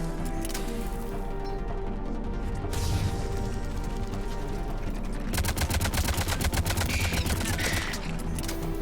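Sustained gunfire in the Mass Effect 3 video game: dense, rapid automatic bursts rattle on almost continuously, growing into a sharper, faster volley in the second half, loud and without speech.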